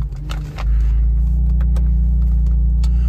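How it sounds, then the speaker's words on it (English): A BMW M3 Competition with keyless start fires up, a brief starter whir and catch giving way to a loud, steady low engine idle that fills the rest of the clip. "Fire her up, so she's keyless go."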